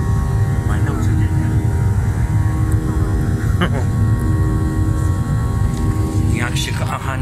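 Airliner cabin in flight shortly after takeoff on a trip to Greece, with a loud steady engine drone filling the background while people talk over it nearby.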